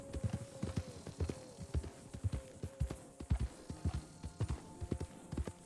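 Hooves of a Norfolk Roadster horse in the western game Red Dead Online clop in a steady, moderately paced rhythm, repeated thuds at close range over a faint background tone.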